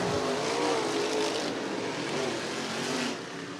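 Late model race cars roar around the oval at Cottage Grove Speedway, a loud, continuous blended engine drone with rising and falling pitch as the pack passes, with no voices.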